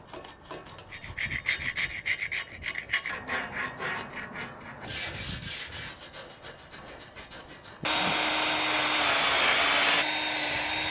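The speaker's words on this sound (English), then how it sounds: "all of the, or most of the paint and rust that I'm going to be scraping off of here" Paint and rust being scraped off a metal railing in uneven rasping, rubbing strokes, close up; partway through, a loud steady blowing roar takes over and continues to the end.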